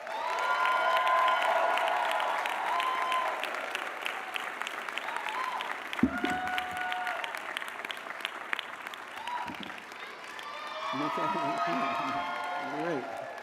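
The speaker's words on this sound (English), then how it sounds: "Let's take a moment to applaud those whose love and support made your doctoral graduation possible." Audience at a doctoral hooding graduation ceremony applauding, clapping swelling and fading with some cheers, a fairly distant crowd sound that tapers off before rising again.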